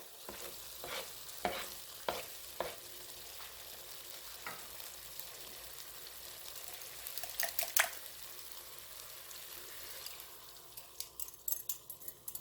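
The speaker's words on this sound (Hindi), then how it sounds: "अब हम इसमें डालेंगे एग्स।" Eggs hitting a pan of frying onion, tomato and spice masala for egg khagina, a steady sizzle with scattered clinks and scrapes of stirring, building to quick utensil taps near the end.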